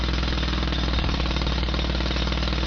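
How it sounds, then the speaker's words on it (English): A 90-pound pneumatic jackhammer hammers steadily at concrete, a loud, dense, unbroken rattle of rapid blows held close for the whole stretch with no voices over it. "Now this is a 90-pound jackhammer"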